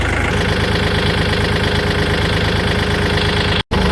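A modified farm tractor engine runs loud and close with a rough, knocking idle pulse and steady vibration, cutting out for an instant near the end.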